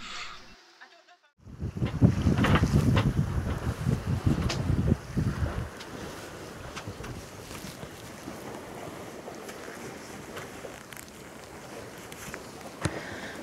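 A sailboat under sail off Scotland on a grey day, heading toward Troon, with loud wind buffeting and rushing water for a few seconds that settle into a steady, softer hiss of wind and waves.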